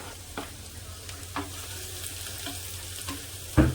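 Onion sizzles in groundnut oil in a pan, a steady moderate frying hiss broken by a few soft stirring clicks and a louder clatter at the very end.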